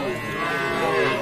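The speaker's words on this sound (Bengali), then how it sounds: "এই যে দেখতে পাচ্ছেন দর্শক, প্রচুর গরুর সমাগম।" Cattle, including small bulls of Sahiwal, cross and local breeds, at the Saturday Boda livestock market in Panchagarh, lowing in a drawn-out moo over a dense crowd murmur.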